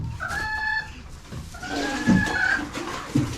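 Backyard chickens cluck and squawk close by, with a couple of sharper calls rising over a steady background murmur.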